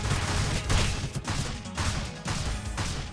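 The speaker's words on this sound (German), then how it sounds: "Alles am explodieren hier." Dense bursts of explosions and rapid gunfire in the video game TMNT: Shredder's Revenge crash continuously with a rumbling low end, loud and chaotic throughout.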